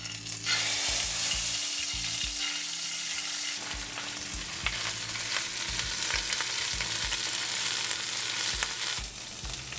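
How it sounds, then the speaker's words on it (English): Ginger garlic paste sizzles loudly in a hot pan while Shahi Paneer is cooked at home, a steady dense frying hiss with soft stirring scrapes and clicks throughout, no voices. "I'll go ahead and add the ginger garlic paste now."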